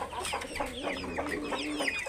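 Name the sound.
Australorp chickens clucking on a farm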